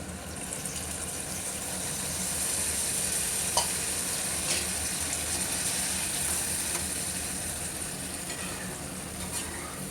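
Tamarind pulp bubbles and sizzles steadily in hot oil, a dense continuous frying hiss with faint occasional ticks and scrapes, close and even throughout.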